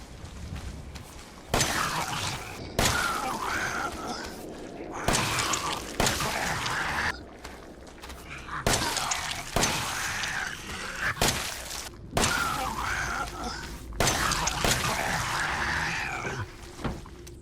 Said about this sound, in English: now I'm going to go ahead and test the M19 handgun on a molded with both